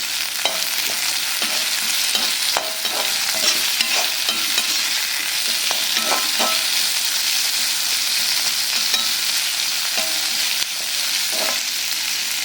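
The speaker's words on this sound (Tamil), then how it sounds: "கொஞ்சமாக இஞ்சி பூண்டு இதையும் வதக்கும்." Ginger and garlic sauté in hot oil for a Tamil chickpea gravy, a steady close sizzle with scattered scraping and stirring clicks running throughout, no voices.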